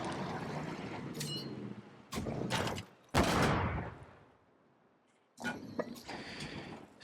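Assault gun fire hitting district defenses in Civilization VII: loud, rough bursts of gunfire and impacts at irregular intervals, with the strongest blast near the middle and a quiet rumbling lull before a final sustained volley.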